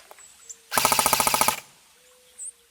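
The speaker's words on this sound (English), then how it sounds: "Fully automatic fire." A short burst of fully automatic airsoft gunfire at an outdoor airsoft field, about a dozen rapid, sharp cracks in under a second, close and loud, followed by quiet with a faint click.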